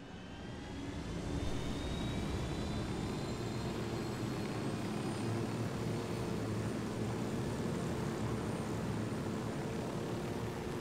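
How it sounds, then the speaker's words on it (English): A fixed-wing airplane engine in the video game Ghost Recon Wildlands drones steadily throughout, a loud, continuous hum with a faint whine rising above it and no voices. "There's a plane over there."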